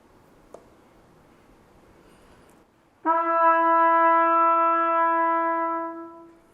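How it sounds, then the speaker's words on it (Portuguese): A single sustained brass note from a trumpet played without valves like a bugle, bright and steady, blown for a few seconds after a brief quiet pause, close and loud. "Agora eu vou tocar outra corneta."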